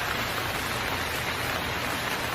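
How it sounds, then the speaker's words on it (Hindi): Heavy rain pours down in a dense, steady hiss, loud and unbroken throughout. "अचानक तेज बारिश शुरू हो गई"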